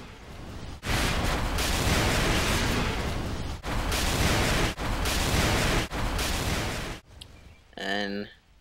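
Kill-streak explosions in a shooter video game produce a series of loud, roaring, booming blasts, one after another, with brief gaps between them. A short voice sounds at the end.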